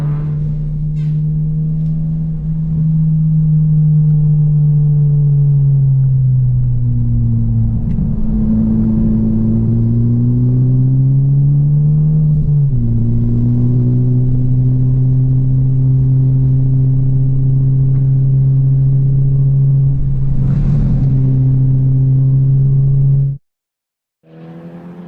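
In-car sound of a 10th Gen Honda Civic race car lapping COTA, a loud, constant engine drone whose pitch sags and climbs through shifts and corners for most of the lap before cutting out abruptly near the end.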